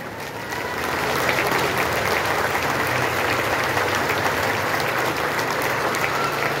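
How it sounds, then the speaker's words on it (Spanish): A crowd applauds at the close of a municipal government report session in Tepanco de López, the clapping swelling within the first second and then holding as a full, even roar of hands. "¡Fuerte el aplauso!"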